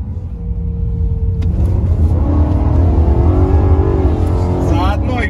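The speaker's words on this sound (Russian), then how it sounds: "вот тут мы ехали на низкой М3" A lowered BMW M3 drives and revs, its engine a loud steady low rumble rising in pitch as it accelerates, with someone speaking over the drone.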